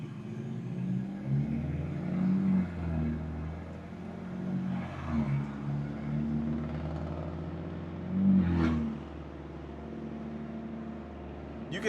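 The straight-piped exhaust of a 2016 BMW F30 328i with a stage 2+ tune rumbles while driving, rising in two distinct revs before settling back to a low drone.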